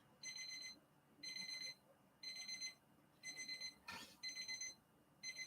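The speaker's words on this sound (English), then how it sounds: "something's beeping. It's telling me that that end of the meat is cooked." A kitchen meat thermometer beeps in steady repeated bursts, about six short pulses, fairly clear over a quiet room with a brief clatter in between.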